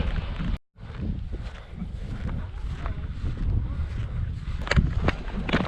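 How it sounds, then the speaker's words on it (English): Wind buffeting a microphone during an ultra-distance walking challenge, a continuous low roar and rumble, with a short dropout early on and occasional sharp gusty pops. "so windy, you can hear that"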